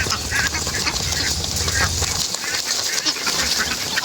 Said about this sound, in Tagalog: Uy, mga itik, kusa silang sumasakay dito sa ano, sa kargahan.